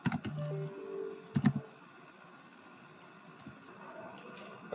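Code is typed on a computer keyboard in short bursts of close, crisp keystrokes separated by quieter gaps.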